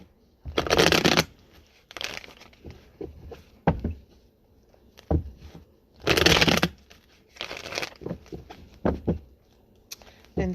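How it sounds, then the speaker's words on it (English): Tarot cards are shuffled close by in several irregular bursts of riffling and soft slapping, interspersed with quieter taps and card handling. "let's go ahead and pull some tarot"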